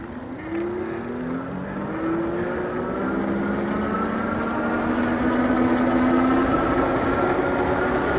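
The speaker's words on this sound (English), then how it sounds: "Now let's just use the thumb throttle and see how fast we can go." A Puckipuppy Boxer electric bike riding on thumb throttle alone, its motor whine rising steadily in pitch as it accelerates, with rushing wind and road noise underneath.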